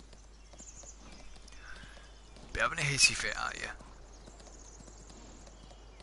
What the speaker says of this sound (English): obviously I'm pushing this horse on here, and he's not complaining obviously of stamina